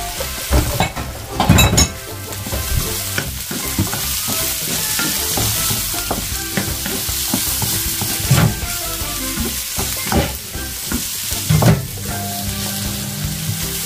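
String beans stir-fried with bacon in a pan, a loud steady sizzle with a few louder stirring scrapes and clatters, with no voices.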